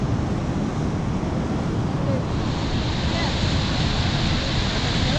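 Niagara Falls in winter, with ice on the river below, pours in a steady, loud, unbroken roar of rushing water that fills the whole stretch without pause.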